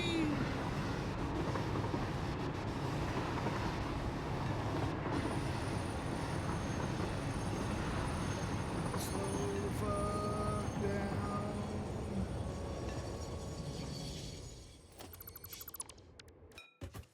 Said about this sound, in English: That so I don't stop the trains from delivering normally.